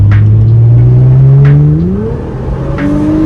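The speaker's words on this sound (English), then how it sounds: "So I'm gonna wait until the car is fully heated up, and then I'll do some pulls." A Nissan GT-R fitted with K&N air filters accelerates hard, its loud, close engine note climbing steadily in pitch, dipping briefly at a gear change, then rising again.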